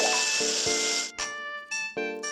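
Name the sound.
water spraying, from a video game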